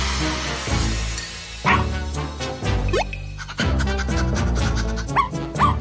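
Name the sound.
dog barking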